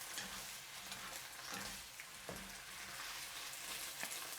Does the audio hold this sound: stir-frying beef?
yes